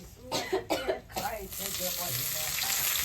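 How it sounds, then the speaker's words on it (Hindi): Khesari greens being tempered in hot oil with garlic leaves and dried chillies, a steady close sizzle and frying hiss, with a short cough and throat clearing at the start. "खेसारी के साग हम लगा रहल छी तड़का अथी के साग के लहसुन के पत्ता और सूखा मिर्चाई"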